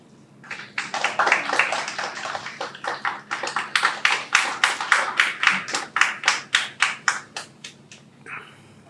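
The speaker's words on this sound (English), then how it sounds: "Please give a big round of applause." A conference audience claps steadily, loud at first and then settling into a rhythmic pattern of distinct claps before fading out.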